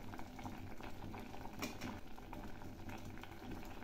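Sliced carrots boiling in a pot of water, giving a faint, steady bubbling burble with soft patter, quiet and continuous throughout.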